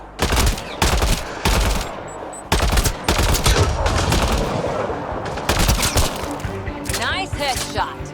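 Loud bursts of automatic weapon fire rattle in rapid volleys during combat in Mass Effect Andromeda, close and dense with brief pauses between strings of shots.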